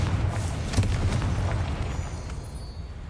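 A Confringo fire spell explodes in Hogwarts Legacy, a loud rumbling blast with a sharp burst near the start that decays into a low, sustained roar over about three seconds, with no talking.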